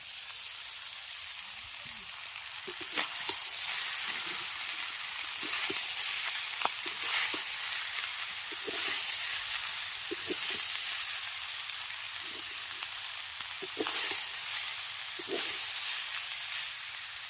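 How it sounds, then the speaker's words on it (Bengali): Cooked rice frying in a pan with vegetables for homemade fried rice, a steady soft sizzle over about seventeen seconds, broken by occasional scraping clicks of a spatula stirring. "যেহেতু বাড়িতে তৈরি করছি তাই আমি ভাতটাকে একটু ভেজে নেবো"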